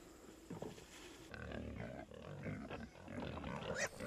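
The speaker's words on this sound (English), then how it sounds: "At this point, we've got a number of pigs." Pigs on a small farm grunt and squeal in a loud, rough jumble, with snorts and shrill cries overlapping throughout at close range.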